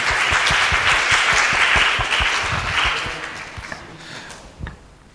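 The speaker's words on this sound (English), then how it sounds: "we give a warm applause to Mr." Seminar audience applauding at the close of an entrepreneurship presentation, clapping strong at first and then thinning and fading out over a few seconds, with a last scattered clap near the end.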